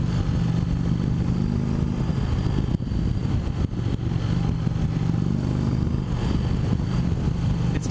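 A 2017 Indian Chief Vintage motorcycle engine while riding: steady, loud low-pitched rumble with continuous wind and road roar, close and unbroken throughout.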